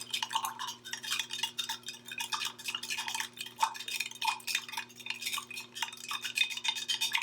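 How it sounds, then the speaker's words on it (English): Sugary colored water stirred in a container, a utensil scraping and clinking against the bottom in quick, busy, continuous strokes, close and fairly quiet with no talking. "You can almost hear it scraping on the bottom"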